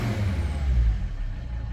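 A 2014 Volvo XC60 D4 2.4 diesel starts by push button, giving a low, rumbling engine surge that swells and then settles into a steady idle.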